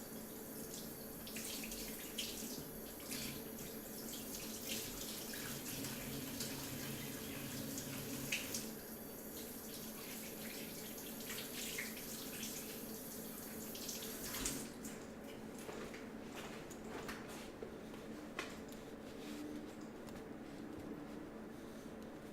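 Tap water runs steadily into a kitchen sink as hands are washed under it, a continuous splashing hiss close by with small shifts as the hands move through the stream.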